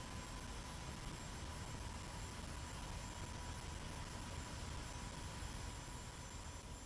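A steady jet roar from an F-86 in the DCS flight simulator as the power is pulled back, a continuous broadband engine drone with a faint high whine, constant and close throughout with no talk.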